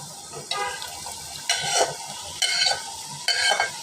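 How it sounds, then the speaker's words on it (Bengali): Fried potatoes tossed back into a hot pan, a spatula scraping and stirring in four distinct strokes over a steady sizzle, close and without talk. "এই যে দেখেন আলুটা ভেজে রাখছি, এই যে এখন দিয়ে দিব।"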